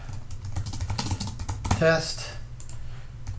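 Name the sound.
typing a note in HoudiniEsq app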